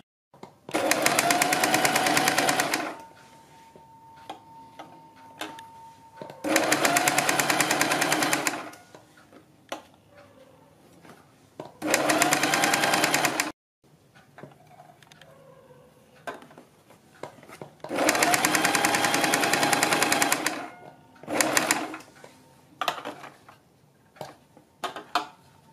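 A sewing machine stitches around a folded kurti neckline, whirring loudly in five separate runs of a few seconds each, with quiet gaps between them, close up.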